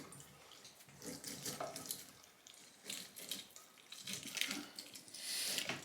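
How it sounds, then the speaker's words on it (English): Fresh orange squeezed by hand into a pan for chicken à l'orange, juice splashing and trickling in uneven wet spurts, faint and close, with no one talking. "So we'll squeeze this orange up."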